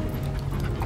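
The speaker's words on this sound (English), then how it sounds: "I'm gonna take that growl as a yes." A sled dog in the video game The Red Lantern gives a low, steady growl, continuous and close throughout with no pause, alone without talk.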